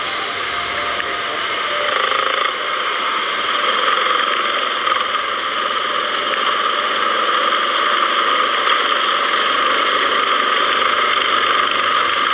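A motorcycle engine idles steadily, loud and close, a constant droning hum that holds level throughout without revving or voices.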